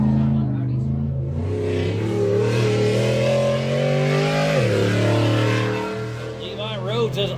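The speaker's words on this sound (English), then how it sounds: "Levi Rhodes is all over the throttle in that TMR car" An Ultra 4 off-road race car at the Wild West 100 in Columbus, Montana, revs hard, its mid-range engine note rising and falling near and loud, with a commentator talking over it.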